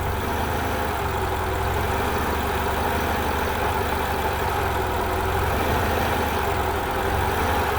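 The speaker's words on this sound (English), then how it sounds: "You can even hear the load changing on the alternator," 1990 Honda Accord engine idling steadily nearby, a constant low drone with subtle shifts in tone as the alternator load changes, with no talk.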